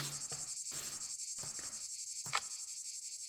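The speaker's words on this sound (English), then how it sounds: "Cicadas. It's reminding me how hot it is here right now in Japan." Cicadas trill in a continuous high, buzzing drone inside a song, with bursts of other sound breaking through between steady stretches of insect noise.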